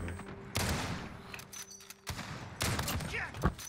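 Bursts of gunfire crackle in a war video game: a quick volley, a pause, then more rapid shots, moderately loud, with a voice speaking briefly among them.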